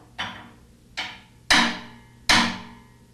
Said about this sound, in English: After hand tightening, tap the tool with a hammer to force the upper half of the inner tub seal down